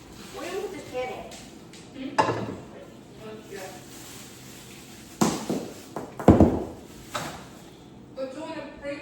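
A frying pan clatters against other cookware and cabinets in a new home's kitchen during grocery unpacking, giving a few sharp knocks and scrapes over a quiet background while people talk nearby.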